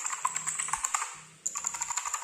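Rapid clicky keystrokes on a Fantech Maxfit108 MK855 mechanical keyboard, close and crisp, with a brief pause midway before the typing resumes; no voices.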